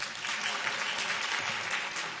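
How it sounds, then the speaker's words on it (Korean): A church congregation claps together after being called up, a dense, steady wash of many hands applauding throughout with no talking. "박수 치세요"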